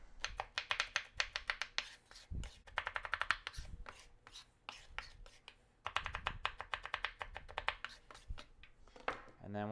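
Nuts being chopped finely with a knife on a big cutting board, fast rhythmic close taps in long runs with brief pauses between bursts.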